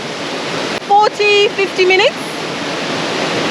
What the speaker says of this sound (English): We're at the 1st waterfall.